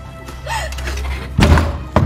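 A closed door is banged on hard in an Indonesian TV crime-drama scene: a voice comes first, then two heavy, close thuds land about half a second apart.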